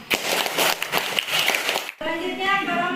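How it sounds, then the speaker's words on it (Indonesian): A classroom claps for a group presentation, brisk scattered hand claps for about two seconds, then the clapping stops abruptly and a voice with a steady tone takes over. "kita berikan tepuk tangan"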